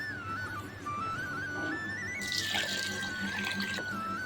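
Water pours into a bowl of rice to soak it, starting as a soft trickle and then becoming a louder, steady splashing rush halfway through, close by with no talking.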